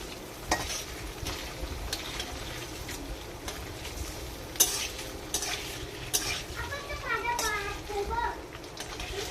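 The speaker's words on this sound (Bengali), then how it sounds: "দেখুন আমি কিভাবে পনিরটাকে ভেজে নিচ্ছি।" Paneer pieces fry in oil in a pan, with a continuous sizzle under repeated stirring scrapes and clinks, while a person talks over it.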